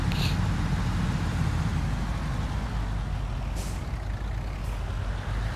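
A heavy haul truck in the video game Construction Simulator, its deep diesel engine rumbling steadily up close, with brief hissing bursts like air brakes.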